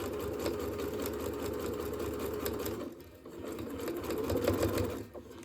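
Sewing machine stitching fabric for a mini Kleenex holder, a close steady motor whir with fast needle chatter that briefly dips and pauses near the end, then resumes.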